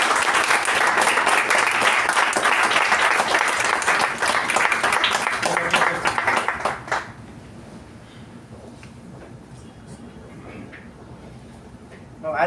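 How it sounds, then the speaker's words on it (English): A club audience at an officer installation ceremony gives a sustained round of applause for the outgoing officers, loud and dense for about seven seconds before it stops and quiet room tone follows. "Please give the outgoing officers a huge round of applause for their wonderful service."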